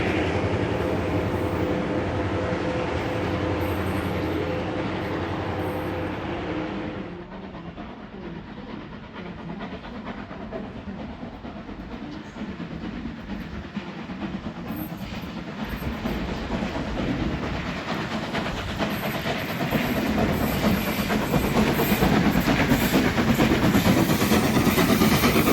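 A train in New South Wales with assisting locomotive 4918 rumbles past, a loud, sustained roll of wheels and clickety-clack with engine drone that dips briefly, then builds louder again toward the end.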